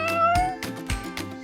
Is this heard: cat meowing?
yes